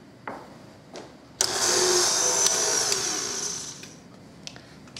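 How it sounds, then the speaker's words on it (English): An electric mixer creams caster sugar with butter, its motor starting abruptly and whirring loudly and steadily for a few seconds before stopping, with a few soft knocks around it. "So we used an electric mixer"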